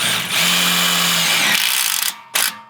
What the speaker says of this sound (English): make sure you're pushing down on these when you put these screws in